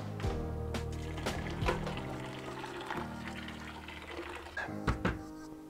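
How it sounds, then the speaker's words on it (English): Boiling water poured into a pan with jam and ginger for homemade ginger beer, a faint splashing pour with a few soft clunks, no talking. "let's add in the boiling water and let's start simmering this bad boy"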